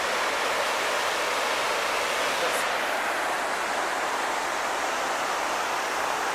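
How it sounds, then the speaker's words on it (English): A small waterfall on the Siouxon Creek trail gives a steady, loud, broadband rush of falling water, constant throughout with no breaks. "we've got ourselves another little waterfall here."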